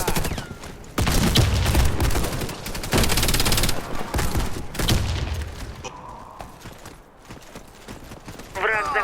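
Video game battle with a grenade explosion and gunfire: heavy bursts and rattling shots come in waves, booming at first and then thinning out, while voices shout over the fighting.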